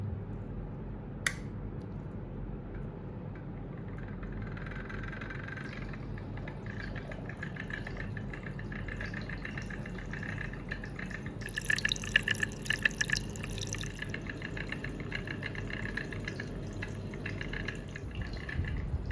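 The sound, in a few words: magnetic stirrer spinning a stir bar in liquid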